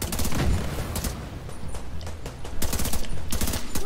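Rapid automatic gunfire from the shooter video game The Division 2, loud bursts of fusillade rattling on and off throughout with dense overlapping shots and booms.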